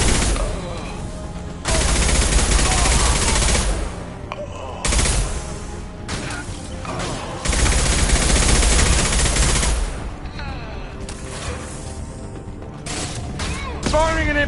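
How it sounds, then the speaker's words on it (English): Bursts of Mass Effect 2 gunfire break out in loud rapid volleys separated by brief lulls, punctuated by heavy impact shots and thuds across a running firefight. "Firing an impact shot!"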